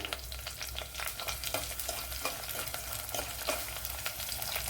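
Garlic, ginger and green chillies fry steadily in a pan of oil for lemon pickle, with a continuous crackling sizzle and frequent scraping stirs close up, no voices.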